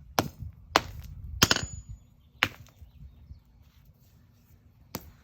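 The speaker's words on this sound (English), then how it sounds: "you have to get the dry ice and you have to hammer it" A hammer strikes dry ice inside a small bottle in five sharp, irregularly spaced knocks, close and crisp, with faint rattling between blows.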